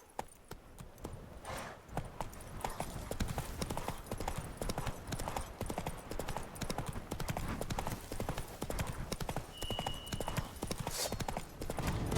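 A horse gallops in The Witcher 3: Blood and Wine, with rapid rhythmic hoofbeats pounding steadily and loudly for the whole stretch and a brief higher tone near the end.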